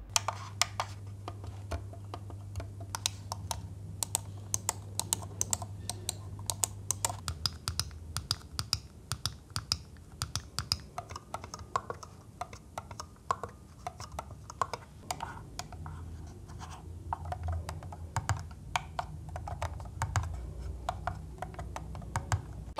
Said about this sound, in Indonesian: gimana sih bunyi klik dari setiap mouse ini, gue juga udah rekamin buat kalian